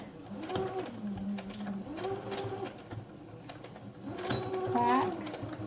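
A domestic sewing machine stitches replacement elastic into a GroVia hybrid cloth diaper shell in short whirring runs with brief stops between them, quiet and close, while someone talks over parts of it.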